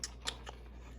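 Scissors snip through paper while cutting out a square for a handmade exploding box: three quick, crisp, close cuts spaced evenly over about a second, alone, with no talk.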